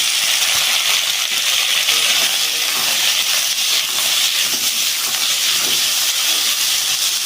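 Soybean chunks hit hot oil in a pan and set off a loud, continuous sizzling hiss with crackling, close and steady from start to end.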